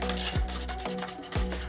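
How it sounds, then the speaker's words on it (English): Ratchet wrench clicking as it backs off the strut top nuts on a BMW E82/E90 coilover, steady rapid pawl clicks with periodic swings of the handle, close and clear. "you can remove the top three nuts that hold the strut to the strut tower"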